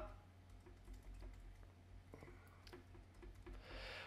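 Fingers type on a computer keyboard, producing a quiet run of irregular key clicks over a low background hum, with a brief burst of louder tapping near the end.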